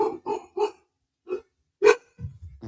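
Dogs bark at someone walking past: three quick barks, then two more spaced barks, close and loud. Low grumbling follows at the end.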